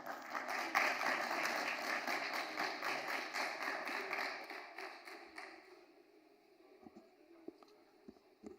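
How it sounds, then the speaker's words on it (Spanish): A conference audience at a productivity week event gives applause to welcome a speaker, steady clapping that thins out and fades into a few scattered claps and room noise. "Así que por favor recibámoslo con un fuerte aplauso."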